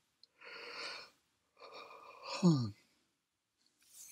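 A person yawning during a late-night bedtime-story podcast, two drawn-out breathy yawns with a voiced, falling groan at the end of the second, close and quiet against silence.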